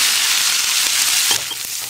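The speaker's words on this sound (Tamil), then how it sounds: "வெங்காயம் நல்லா வதங்கிடுச்சு" Onions fry in hot oil in a kadai, a bright, steady hiss of sizzling that stays close and loud for a moment, with a faint stir near the end and no voices.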